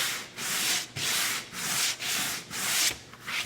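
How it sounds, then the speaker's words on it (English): Rhythmic scraping of a sanding block over painted wood, about seven even back-and-forth strokes with brief pauses between them, close and clear. "sanding block, we'll go right through that"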